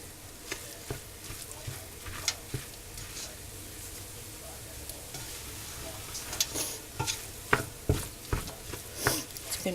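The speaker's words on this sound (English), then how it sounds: "So stir all this stuff in." Ingredients for Texas red chili being stirred in a pot, giving a steady low bubbling sizzle with scattered scraping and clinking strokes that grow louder and busier toward the end.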